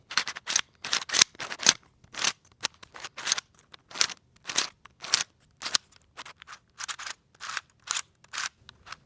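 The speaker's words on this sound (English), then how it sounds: "let's just go up to the microphone here and I'll show you how this puzzle sounds" Clicky, crunchy turns of a 3D-printed Bump Copter twisty puzzle made of thick, dense plastic, scrambled close to the microphone in quick irregular bursts of sharp snaps with brief pauses between, no talking.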